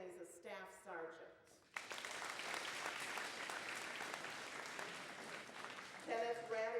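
An audience at a Veterans Day school assembly in Fort Gratiot bursts into loud, sustained clapping for several seconds, with a voice speaking just before the applause starts and again as it fades.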